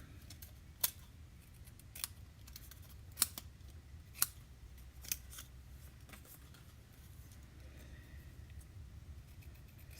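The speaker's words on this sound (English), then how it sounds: "take my snips and I am going to cut right up there" Snips cutting out a paper lipstick card, a handful of sharp, quiet snips spaced about a second apart over a faint steady background hum.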